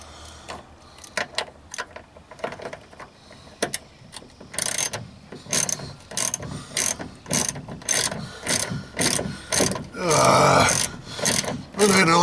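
Hand ratchet clicking while removing boot trim from a Toyota RA40 Celica, a string of sharp, close ratcheting bursts in quick runs with short pauses, louder toward the end.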